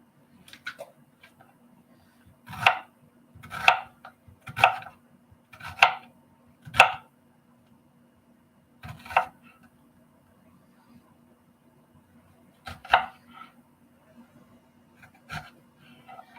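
Onion being chopped on a board, a handful of distinct knife thunks in small clusters separated by pauses, close and fairly quiet over a faint steady hum.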